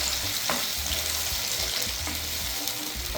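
A ground sauce of tomato, onion and chili sizzles in a hot pan for homemade pizza, a continuous close frying hiss broken by low scraping thumps of a spoon stirring, with no talking.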